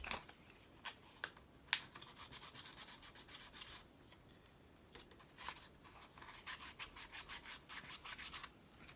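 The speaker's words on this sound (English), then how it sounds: "Now we need to apply a little bit of a sandpaper on inside on" Sandpaper rubs the inside of a wooden model kit part for a UGears Tower Windmill, making repeated scratchy back-and-forth strokes in bursts, close and fairly quiet with short pauses.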